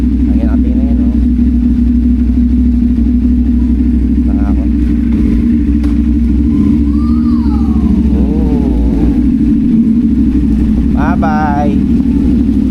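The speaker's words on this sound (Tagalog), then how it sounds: "Nagpapainit tayo ng motor." A CFmoto 450SR motorcycle engine warming up close by, a loud, steady, low rumble that swells in revs now and then, with voices, including a child's, talking over it.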